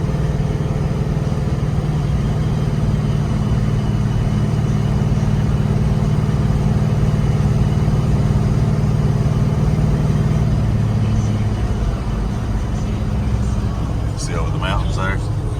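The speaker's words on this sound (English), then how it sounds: "The car pulls great." A 1972 Pontiac GTO Judge tribute climbs a very steep uphill road near the Virginia border, its engine a steady, loud low rumble throughout, with a person talking over the sound.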